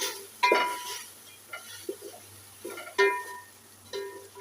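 Chicken and vegetables with soy and hot sauce stirred in a pan, a spoon scraping and clinking against the metal in several distinct strokes over a faint sizzle, close and fairly loud.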